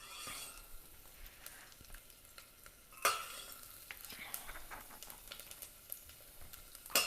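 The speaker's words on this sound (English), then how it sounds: "Now my mustard seeds are popping all over the place" Mustard seeds, curry leaves and garlic frying in a hot pan, a steady crackling sizzle with scattered pops and a sharp burst of spitting, close and quiet under occasional stirring.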